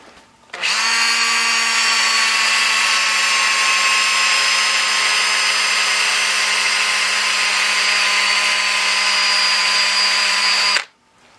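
Buffing wheel spinning at slow RPM against black-coated metal bar stock, a loud, steady whine that starts abruptly, holds evenly for about ten seconds, then cuts off.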